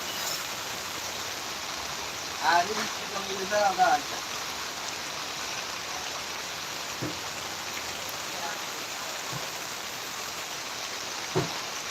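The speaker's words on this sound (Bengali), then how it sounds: "রাত থেকে ভোর রাত থেকেই বৃষ্টি হচ্ছে প্রচুর বৃষ্টি হচ্ছে" Heavy rain falls steadily beside a canal in Noakhali, a faint, even wash of hiss throughout, with a brief murmur of voices early on and a few soft knocks.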